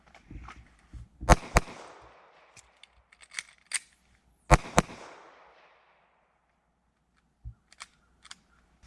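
Loud, sharp gunshots crack out in quick pairs during a two-reload-two shooting drill, echoing briefly, with a short gap for a reload between bursts and a couple of fainter shots near the end.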